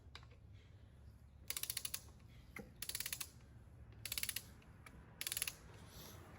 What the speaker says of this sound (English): now we can torque down our rocker arms